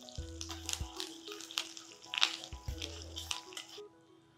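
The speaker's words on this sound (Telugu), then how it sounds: "కొంచెం కరివేపాకు, చాలా కొంచెం జీలకర్ర వేద్దామంటే ఈ వేగిన దాంట్లో అది వేగిపోతుంది" Curry leaves and a little cumin crackle and sizzle in hot oil, a close, soft frying hiss with scattered pops over a low steady hum.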